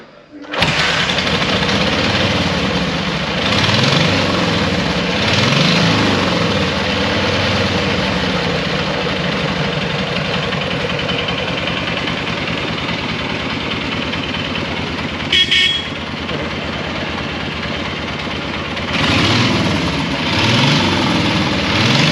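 A 1942 Harley-Davidson XA horizontally opposed boxer motorcycle engine runs steadily close up with a rough, throbbing idle, rising briefly in revs a few times.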